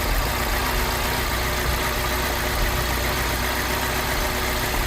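A 2007 Mini Cooper S engine idles roughly with a lumpy misfire, a steady close rumble with no talking.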